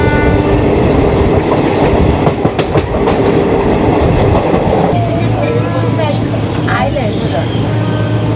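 Shaktipunj Express passenger train runs loudly on rails between Kulti and Barakar stations, a continuous heavy rumble with rhythmic clatter and squealing, heard from close by throughout.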